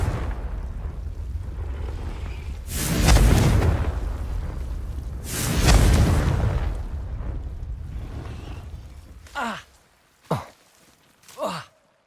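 A Confringo blasting spell goes off in Hogwarts Legacy with two loud booming explosions, each a sustained roar, followed by three shorter sharp magical whooshes and bursts near the end.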